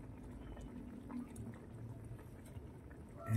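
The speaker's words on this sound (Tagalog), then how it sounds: "Ayan, kumukulo na, konting kulo pa para mas lalo siyang sumarap." Coconut milk sauce with tilapia, ginataang tilapia, bubbles at a low simmer in a pot, a soft, continuous burbling that stays faint and steady throughout, with no voices.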